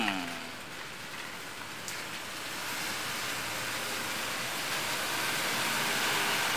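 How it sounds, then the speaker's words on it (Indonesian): Steady rain that has been falling since the night before, a dense broadband hiss of drops on surfaces, gradually swelling slightly louder, with no talk over it. "hujan dari semalam"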